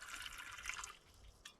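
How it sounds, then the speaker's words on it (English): Water is poured into a cup at a solo campsite, a soft trickling and splashing stream that ends with a brief final drip, faint and close by. "First thing you do is you pour your water into your cup so you know how much water you need to boil."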